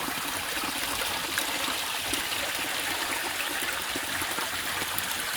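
Steady trickling water runs continuously into a micro hydro turbine's collection tub through a slitted rubberised plastic mat, a close, even stream with a gentle gurgle and no voices.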